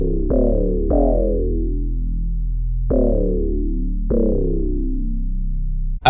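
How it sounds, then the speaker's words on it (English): A looped acid-style synth bass plays a handful of plucky notes that decay quickly over a steady deep low end. It is loud and up front, with no voices. "now we got the bass, which sounds like this."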